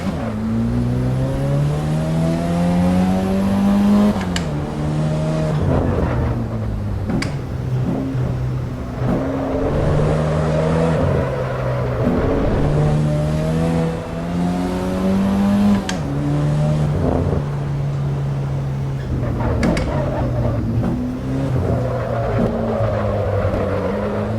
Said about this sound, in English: Fun little car to drive.